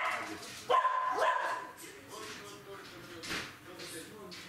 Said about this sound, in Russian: Она так гавкает